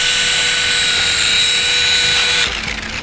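A high, steady motor whine like a small toy helicopter's rotor, loud and close, then dropping off abruptly near the end.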